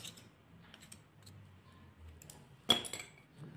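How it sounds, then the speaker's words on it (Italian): A spoon clinks and scrapes against a bowl while stirring Nutella into coffee cream, with soft taps, quiet and close, and one sharper knock near the end. "Mescolate bene fino a quando non sarà sciolta"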